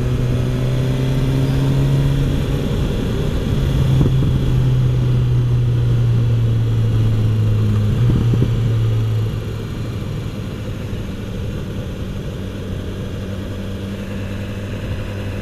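A BMW S1000XR motorcycle engine runs with a strong, steady low drone that rises in pitch with revving, loud and close, then eases to a lower, quieter note after about nine seconds.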